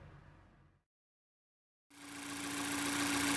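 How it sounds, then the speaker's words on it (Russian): Mazda Skyactiv 2.0 engine with a bearing-knock complaint cranks after a short silence, then settles into a steady idle that grows slightly louder, heard close with no talk. "Так, мотор заведли."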